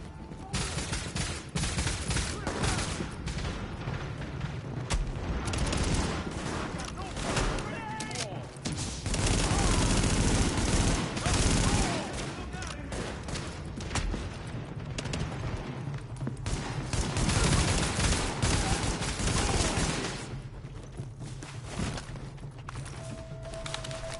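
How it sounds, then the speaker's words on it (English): Sustained heavy gunfire from a rooftop gunner in a video game, loud, dense volleys that swell and fade over a long stretch, mixed with other battle noise and occasional spoken game dialogue. "The escort party's taking heavy fire from the roof."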